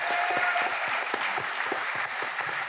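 A seated event audience gives a dense, continuous round of applause, many hands clapping at a steady level throughout.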